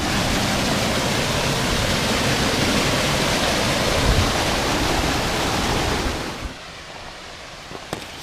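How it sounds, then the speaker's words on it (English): A waterfall at the Seven Sacred Pools on the Road to Hana roars as a steady, loud, dense rush that fills the scene before cutting away to a much quieter background. "the falls known as the Seven Sacred Pools, and they drain down into the ocean right down there"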